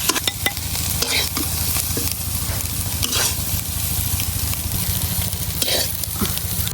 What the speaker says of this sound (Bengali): পেঁয়াজ কলি ভাজাটা কিন্তু হয়ে গেছে,